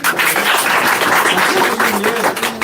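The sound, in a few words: applause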